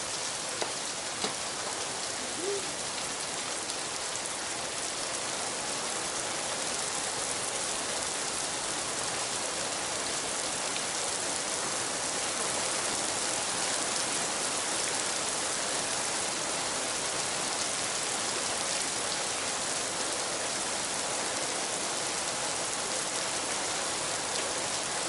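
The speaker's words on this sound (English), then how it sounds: "I'm riding in the rain." Steady rain hisses loud and unbroken during a motorcycle ride in wet weather, a dense wash of falling drops with no voices.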